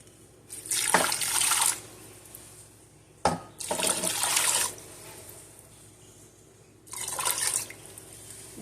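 Water is poured in three separate bursts into a slow cooker over chicken, each a loud splashing gush lasting about a second or more with short quiet gaps between, heard close up without any talk.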